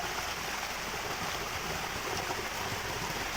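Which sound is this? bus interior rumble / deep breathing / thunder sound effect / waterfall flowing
waterfall flowing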